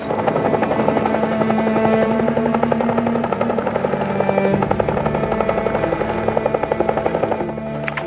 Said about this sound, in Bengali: হেলিকপ্টার আসছে স্যার, হেলিকপ্টার আসছে